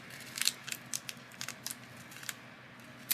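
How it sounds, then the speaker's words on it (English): Scissors cutting paper for a Dollar Tree DIY craft, a quiet series of crisp snips in an uneven rhythm, close and faint. "I'm going to try cutting it from the side as well."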